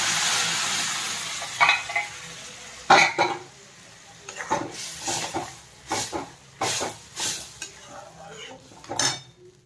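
Dal seasoned with salt, turmeric and cumin powder goes into a hot pan, opening with a loud hiss that fades into a quieter simmer, then a run of irregular spoon clinks and stirring scrapes against the metal.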